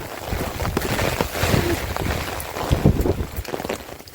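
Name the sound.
strong wind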